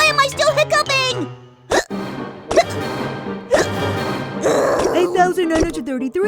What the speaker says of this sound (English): Why am I still hiccuping?